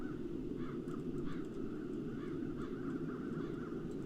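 Crows caw repeatedly in a video game over a steady low droning background, the calls coming in short clustered bursts at moderate distance, with no talking.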